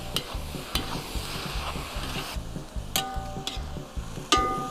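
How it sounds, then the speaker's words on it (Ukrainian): Salted vegetable base fries in a kazan while a utensil stirs it, giving a steady sizzle broken by repeated sharp scrapes and knocks against the pot. "Присолюємо і перемішуємо."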